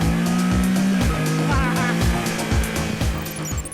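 A Can-Am Spyder F3 three-wheeled motorcycle accelerating hard with 130 Nm of torque: a loud, close engine rising steadily in pitch, with rhythmic pulses throughout.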